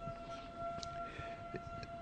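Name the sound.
fire whistle siren going off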